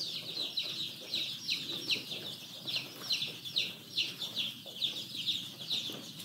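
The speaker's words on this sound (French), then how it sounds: "Et il y a beaucoup de poussins aussi qui sont là, toujours fatigués." Young cockerel chicks in a heated brooder, cheeping in quick repeated peeps close by, a steady chorus of small birds with faint background movement.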